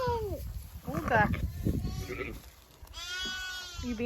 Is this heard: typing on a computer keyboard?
no